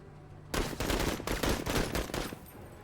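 Gunfire in a video game battle opens suddenly and runs for about two seconds, loud rattling bursts in quick pulses that then fade into a quieter tail.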